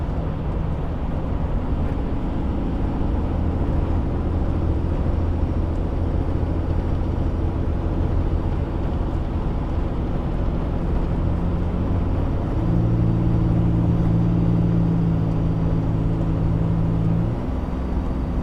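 A car driving steadily while its transmission shifts in and out of overdrive into fourth gear, a continuous engine and road hum whose tone rises and changes pitch near the end as the gear changes.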